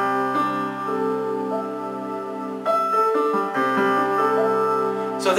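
Sustained musical tones stepping upward in perfect fifths along a harmonic series, layered notes changing pitch at a few points, steady and moderately loud with no talking.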